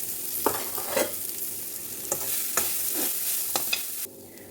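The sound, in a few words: grated coconut being stirred into hot tempering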